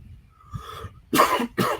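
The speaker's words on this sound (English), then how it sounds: "First cough the whole stream." Two sharp coughs ring out close up, one right after the other, following a faint throaty murmur.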